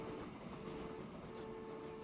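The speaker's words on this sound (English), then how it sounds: "Oh, there's a new train." In the Transport Fever 2 video game, a new electric double train rolls along with a faint, steady rumble and a thin sustained tone. It stays distant and even, with no voices.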